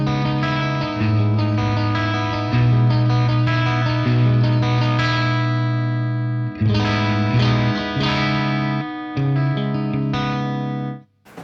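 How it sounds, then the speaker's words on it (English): Electric guitar played through a Marshall JMP-1 preamp on its clean 2 channel, neck and middle pickups, with a JTM45-style tone. Sustained clean chords ring out continuously with a shimmering chorus and echo, then cut off abruptly at the end. "clean 2 to me is just like that classic Marshall JTM 45 thing. You know, neck and middle pickup, blissful."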